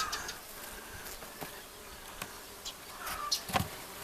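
Bees from a very weak hive colony, kept on a foam-plastic divider board, hum and buzz softly and steadily close by, with a few brief louder insect passes near the end and no talk.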